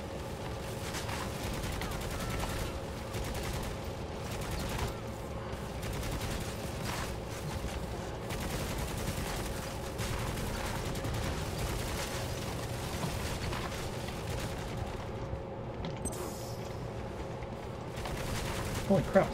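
Constant enemy gunfire and explosions in the video game Necromunda: Hired Gun, a dense, steady wall of rapid shots that barely lets up, with a voice talking over the combat.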